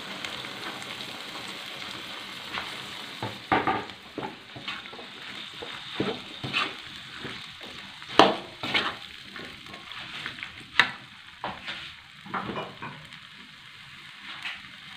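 Onions and chili frying in a pan for a sweet-and-sour pomfret dish, a low crackling sizzle punctuated by irregular scraping and tapping from stirring over fifteen seconds.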